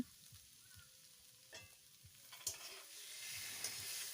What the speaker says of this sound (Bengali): এখন এটা খুব ভালো করে লাল করে ভেজে নিচ্ছি।